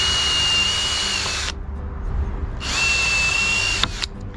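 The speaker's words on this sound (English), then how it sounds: "So I'm just going to get my pallet drill." A power drill whirs in two steady bursts, loud and close, separated by a short pause as screws are driven into pallet wood.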